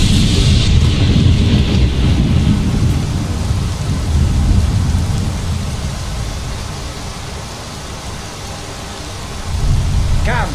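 Heavy rain pours steadily in a video game (Skyrim) while deep thunder rumbles loudly, swelling and fading, with another low rumble near the end.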